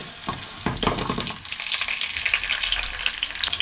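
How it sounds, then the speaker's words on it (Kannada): Thick lengthwise-sliced onion, from a single onion, dropped into hot oil in a pan while making mutton curry, hissing and crackling in a steady sizzle after a few sharp initial pops, close and fairly loud, with no talking. "ಈ ಎಣ್ಣೆ ಕಾಯ್ದ ಮೇಲೆ ಒಂದೇ ಒಂದು ಈರುಳ್ಳಿ ಕಟ್ ಮಾಡಿ ಇಟ್ಕೊಂಡಿದ್ದೀನಿ, ಉದ್ದುದ್ದಾಗೆ ಸ್ವಲ್ಪ ದಪ್ಪಾಗೆ. ಅದನ್ನು ಹಾಕೋತೀನಿ."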